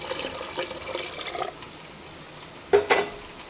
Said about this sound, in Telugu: ఇప్పుడైతే మనం ఇందులో చింతపండు రసం అయితే వేసుకుందాం